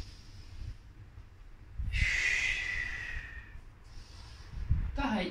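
Slow yoga breathing during a triangle pose: a long, audible breath in and out through the nose, with soft snort-like puffs at the start and end, heard close and alone.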